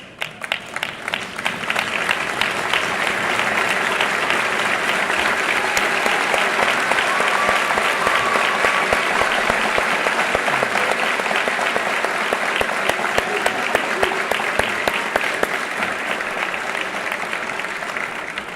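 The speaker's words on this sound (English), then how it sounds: "let's stand up and give them a round of applause." A standing audience at a fire academy graduation ceremony of the Hartford Fire Department gives sustained, loud and dense applause that swells and continues for the whole stretch, with scattered individual claps standing out.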